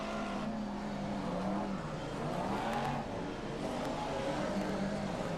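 Several BriSCA F1 stock cars circulate the Long Eaton track, a constant blended engine roar with pitch shifts as cars pass, moderately distant and unbroken.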